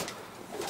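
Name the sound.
racing pigeon cooing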